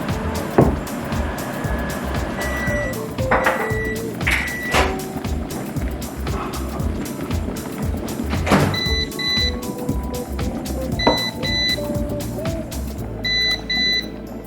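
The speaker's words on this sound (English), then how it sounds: "And that is the sound of our tea kettle." A tea kettle heats water to a boil for an Aeropress cappuccino, giving a steady rushing rumble with clicks and knocks, then short high beeps repeating near the end.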